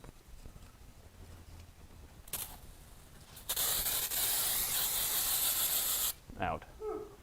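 An aerosol can of brake or carburetor cleaner sprays in a vehicle repair shop, giving a short burst and then a sustained hiss of about three seconds that stops abruptly, followed by faint clatter.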